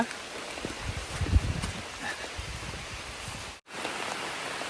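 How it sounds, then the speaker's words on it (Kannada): Rain falls steadily on an arecanut plantation, a soft, even wash of patter on leaves with a few louder drops, moderately quiet and close, and a brief dropout near the end, with no voices. "ಈಗಷ್ಟೇ ಮಳೆ ಶುರು ಆಯಿತು. ಮಳೆ ಬರ್ತಾ ಇದೆ, ಮಳೆ ಜೋರೇನೆ ಬರ್ತಾ ಇದೆ"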